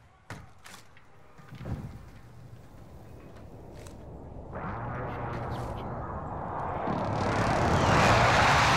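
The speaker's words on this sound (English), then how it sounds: "Enemy UAV overhead." An aircraft drones overhead in Call of Duty: Modern Warfare, a rushing engine roar that swells steadily louder toward the end, following a few heavy thuds and footsteps.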